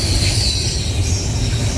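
A Norfolk Southern freight train with auto racks rolls past close and loud, a continuous rumble of wheels on rail with a high metallic squeal and hiss riding over it.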